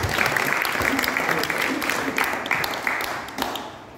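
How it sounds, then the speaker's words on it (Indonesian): Audience applause for Om Yan (Ian Antono of God Bless) at a talk event at Galeri Nasional; moderate, steady clapping from a crowd with scattered sharper claps and some voices mixed in. "Tepuk tangan dulu buat Om Yan."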